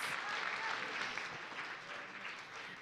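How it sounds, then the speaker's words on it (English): Applause from the audience at a live community crowdfunding event, a steady, fairly quiet wash of clapping that holds evenly through the clip with no talk over it. "Round of applause for Nick with Outdated Threads."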